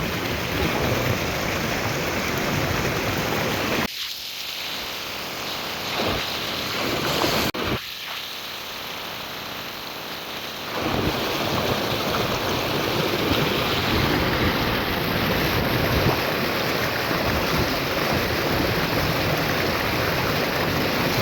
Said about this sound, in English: get a shot of this little creek going into the mountains